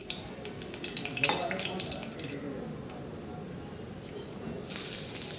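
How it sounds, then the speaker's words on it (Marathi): Onion sautéing in a little oil in a kadhai, a low steady sizzle with metal stirring clinks and scrapes near the start, close and moderately loud. "त्यामध्ये कांदा परतून घ्यायचा आहे"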